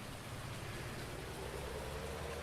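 Soft, steady rain falls on a farm. It makes an even, continuous hiss with a low patter and stays quiet and unbroken, with no voices.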